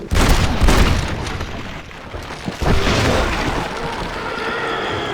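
The explosive rifle detonates in Red Dead Redemption: Undead Nightmare with loud, close booming blasts, two main bursts with rumbling debris between and after them.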